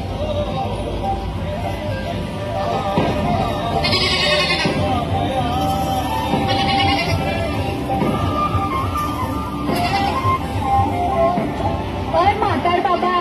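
Sheep bleat repeatedly in a staged village tableau, several short wavering calls rising above a busy background of people talking and crowd noise.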